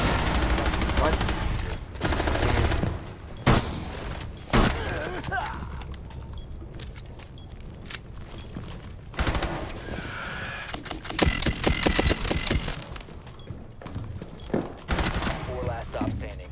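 Rapid full-auto bursts from a switch-equipped Glock in Rainbow Six Siege crackle loud and close, in several bursts separated by quieter gaps with mechanical clatter.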